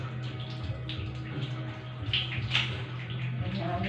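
Steady close splashing and pouring of water as someone bathes with shampoo and conditioner, a continuous wash of water with occasional brighter splashes.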